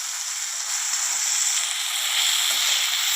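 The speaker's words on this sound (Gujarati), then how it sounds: "તેને તેલમાં મિક્સ કરી દઈશું," Onions and other ingredients being stirred into hot oil for a Gujarati sponge gourd curry, giving a loud, steady sizzle and hiss that runs unbroken from start to end with no voices.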